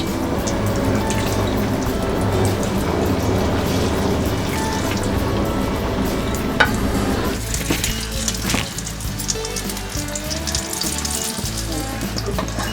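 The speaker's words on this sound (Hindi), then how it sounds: "ये हमारा तेल गरम हो गया है, हम इसमें समोसे डाल देते हैं एक साथ में।" Samosas deep-fry in hot oil in a kadai, giving a dense, steady, close sizzling hiss that runs unbroken throughout and alone, easing slightly toward the end.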